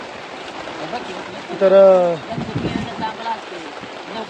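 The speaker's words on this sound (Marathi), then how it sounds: "अति मुसळधार पाऊस पडतोय हा" Very heavy rain pours down in a dense, continuous hiss, with a person speaking over it through much of the stretch.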